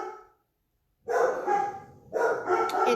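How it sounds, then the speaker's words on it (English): Several dogs bark indoors in two loud, dense bursts separated by a short pause, the barks rapid and overlapping with no talk over them. "It never ceases to amaze me how much they bark."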